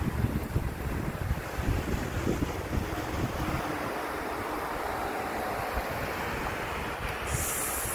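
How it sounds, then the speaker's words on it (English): Strong outdoor wind buffets a microphone in Aruba, a loud, continuous rumbling roar that stays steady throughout with no voices. "the wind may be making it hard to hear me"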